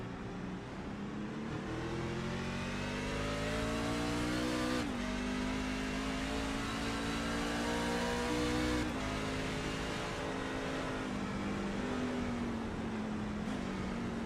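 Racing trucks in a sim racing game at Sonoma roar continuously as a pack, engines climbing and dropping through gear shifts, loud and steady throughout with no talk.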